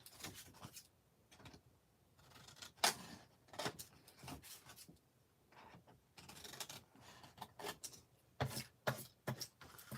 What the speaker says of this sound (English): And you want to cut out or miter the corners.